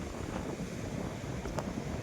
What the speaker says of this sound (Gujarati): પવનના કારણે થોડોક અવાજ ઓછો આવતો હશે, થોડુંક એડજસ્ટ કરી લેજો.